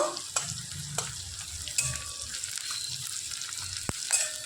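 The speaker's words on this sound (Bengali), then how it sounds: "দুটো লাল লঙ্কা আর দুটো কাঁচা লঙ্কা ছোট ছোট টুকরো করে কেটে নিয়েছি দিয়ে দিচ্ছি" Chopped red and green chillies stirred in a hot frying pan: a steady close sizzle with scraping spoon strokes and a few sharp clinks against the pan.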